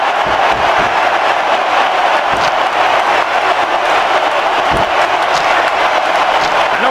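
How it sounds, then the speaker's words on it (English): Arena crowd in the WWE SmackDown vs Raw 2006 wrestling video game, a loud, dense, continuous roar of cheering and noise without pause. "Sounds like this crowd's got something on their minds, King."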